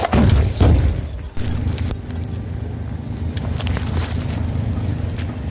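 Heavy gunfire follows a rocket attack on a Merkava tank: a loud blast-like burst at the start, then sustained rumbling shots and crackling under a windy, noisy background.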